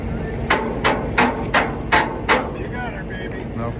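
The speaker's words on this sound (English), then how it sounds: "Nothing a little hammer won't fix." A hammer strikes a boat dock being set into place on a lake, six sharp, evenly spaced metallic blows, loud and close, over outdoor background noise.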